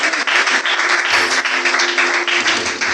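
A church congregation applauds during a French-language service, dense steady clapping filling the space for a few seconds, loud and close, with voices calling out faintly underneath.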